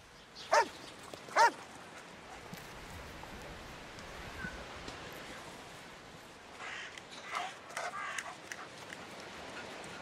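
Two sharp barks from a dog stand out early, fairly near, then a faint outdoor background with scattered distant calls follows.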